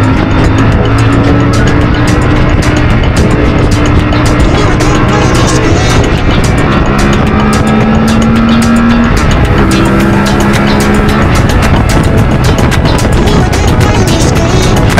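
A CF Moto 450 Ibex motorcycle engine under way, a loud, continuous drone whose pitch climbs and drops between gear changes, close and steady with wind roar.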